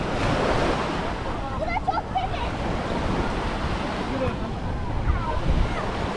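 Sea waves wash continuously onto the beach at Büyükçekmece, Istanbul, a broad rushing surf mixed with wind buffeting the microphone, while a voice speaks briefly over it.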